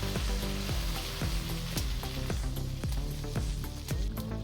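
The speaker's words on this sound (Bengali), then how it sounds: "তো ঝোলটা আমার ফুটে গিয়েছে দেখুন।" Fish curry broth with potatoes boils hard in a large pot for a big black carp dish. A dense, continuous bubbling roar carries repeated rhythmic glugs and pops, loud and close.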